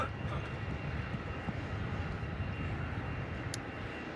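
A Boeing 787 airliner on final approach to land at Melbourne Airport in the evening, heard as a steady, distant broadband jet engine roar that holds level throughout with no voices.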